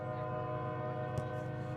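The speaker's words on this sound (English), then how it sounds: "My apologies for the train tracks, which are just across the field, making the noise across from us." A train runs along tracks across a soccer field at night during a college match, its horn sounding as a steady, sustained blare over the constant rumble of the rail cars.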